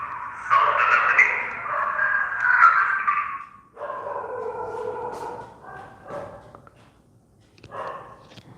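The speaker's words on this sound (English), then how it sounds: "Nandini, what can we do to these dogs" Several dogs howl and bark together in long, wavering, overlapping cries that swell and fade, followed by shorter yips and barks, fairly close and loud with no speech.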